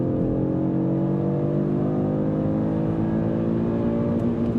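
A 2024 Audi RS3 engine is held in manual mode and revs hard toward redline. The drone is loud, steady and rising, heard from inside the car with no talk.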